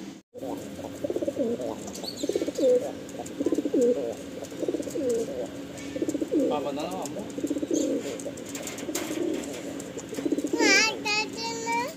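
A pair of Andhra Lalsira and Fulsira pigeons coo repeatedly in soft, rolling calls close by, with overlapping coos throughout and a higher chirp near the end.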